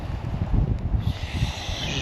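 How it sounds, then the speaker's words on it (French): Strong wind buffets a microphone outdoors in mountain forest at altitude, a rough, low rumbling roar that gusts unevenly and stays loud throughout, without talk. "Ici il y a beaucoup de vent"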